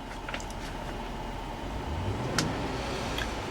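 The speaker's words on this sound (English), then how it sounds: "I'm going to rev the engine." A 5.3-liter V8 engine in a 2007 Chevrolet Avalanche LT idles, then revs up with a rising whine, at moderate distance and fairly steady loudness, with no talking.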